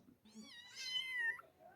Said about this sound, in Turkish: Dışarıdan bir kedi sesi geliyor.